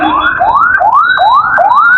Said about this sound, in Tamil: ஆம்புலன்ஸ் வருதுங்க.